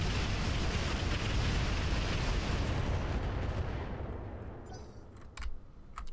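Mech weapons firing Swarm missiles in the Roguetech BattleTech mod, a dense, continuous roar of launches and blasts that stays loud and then thins toward the end, with a few sharp cracks near the close.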